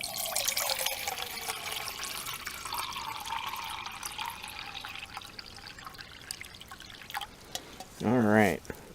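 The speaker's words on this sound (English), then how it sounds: "we're going to go ahead and pour the water in" Water pours into a camping pot on a gas stove during a winter hike, a continuous trickling splash that changes pitch as the pot fills, then ends with a short gurgle.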